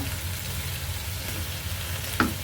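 Boiled sweet potato stirred and mashed in a pan makes a thick, soft scraping and churning with a low rumble, steady and close, ending in a sharp knock of the spoon against the pan.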